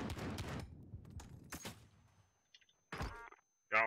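Call of Duty Modern Warfare gunfire crackles in short, sharp bursts, loud up close and then fading into scattered distant shots and clicks, ending with a sudden loud burst.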